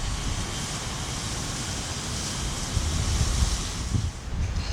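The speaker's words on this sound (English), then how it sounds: "At this stage, I'm going to give it some more water." Water pours steadily onto a newly planted container-grown plant in a sloped garden bed outdoors, a continuous broad hiss and splatter with no talking.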